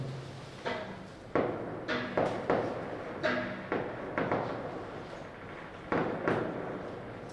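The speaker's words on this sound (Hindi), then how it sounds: "कोई पटाखे चल रहा है, कोई जीत गया क्या?" Firecrackers going off outside during a cricket celebration: a string of sharp cracks and thuds come irregularly, several in quick bursts, at moderate distance with room tone between.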